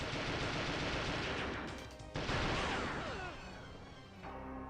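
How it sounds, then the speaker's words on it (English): Phoenix pistol firing explosive bullets in the Nintendo 64 game Perfect Dark, dense bursts of loud gunfire and explosions crackling on top of each other, with a sharp renewed blast about halfway through and a brief drop at the end. "Pistol with explosive bullets."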